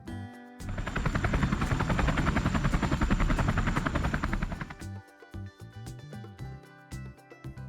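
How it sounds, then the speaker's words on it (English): A helicopter's rapid rhythmic blade thumping, loud and close, lasts about four seconds before ending, after which light music plays. "Helicopter."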